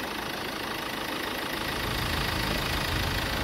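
Ford Ranger XLS pickup with a 2.2-litre diesel engine running, a steady, loud rumble with a slightly rough, clattering edge, close by and continuous, growing a bit fuller toward the end.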